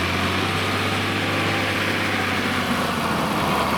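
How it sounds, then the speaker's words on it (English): Tractor engines near a farm, a steady idling drone with a low hum that holds at the same even, fairly loud level throughout with no voices. "I'm living near the farm, so you can see a lot of tractors riding around"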